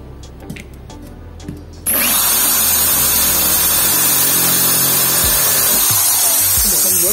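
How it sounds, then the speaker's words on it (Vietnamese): A power drill with a Taro HSS titanium M8 bit, hammer mode switched off, starts after quiet handling sounds and runs steadily loud and close, drilling continuously to the end. "Rồi, tiếp theo mình sẽ khoan mũi M8 này nhá."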